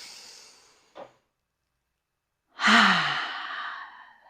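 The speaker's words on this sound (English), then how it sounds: "Inhale, exhale, audible." Audible exhale during yoga breathing, with a faint short breath followed by a long, close, breathy sigh that fades out slowly in a quiet room.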